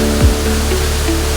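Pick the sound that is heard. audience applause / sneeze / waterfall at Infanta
waterfall at Infanta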